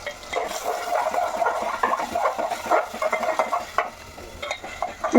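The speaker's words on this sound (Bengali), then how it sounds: "এই যে চপারে চপ করে যে পেঁয়াজ, কাঁচা লঙ্কা, টমেটার ওইগুলোকে দিয়ে দিচ্ছি।" Chopped onion, green chilli and tomato sizzle in hot mustard oil, a dense close frying crackle broken by repeated stirring scrapes and clatter of a utensil against the pan.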